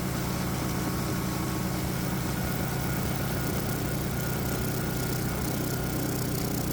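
A 212 cc Predator small engine fitted with port fuel injection runs steadily under load on a dyno, a loud, continuous droning hum with a constant pitch and no talk.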